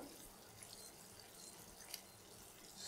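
Kitchen water tap turned on, a faint steady stream of running water hissing into a sink, quiet and continuous with no speech.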